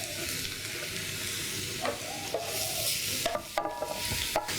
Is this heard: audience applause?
no